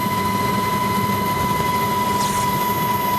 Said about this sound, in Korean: 도보다리와 북한 초소를 아슬아슬하게 지나친 헬기가 판문점 상공에 도착했다